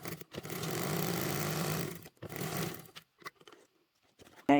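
A sewing machine top stitching a 3/8 seam on a clear vinyl bottle bag, close and steady buzzing runs in two bursts, then stops with light handling clicks.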